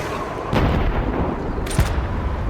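Gunfire at a shooting range in Call of Duty 2, with a loud broadband burst at about half a second and another sharp crack near 1.8 seconds, set over a constant dense background of battle noise.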